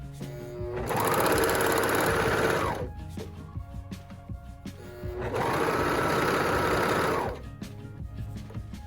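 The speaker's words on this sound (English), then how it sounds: "I'm gonna seal them in a serger" A serger sewing machine finishes fabric edges on a filter pocket, running in two loud, fast-buzzing bursts of about two seconds each with a short pause and light handling noises between.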